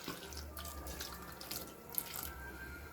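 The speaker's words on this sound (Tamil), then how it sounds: "மூழ்கிற அளவுக்கு நல்லா தண்ணி விட்டுருங்க" Water pours steadily into a pan, a soft, continuous running and splashing that stays fairly quiet throughout.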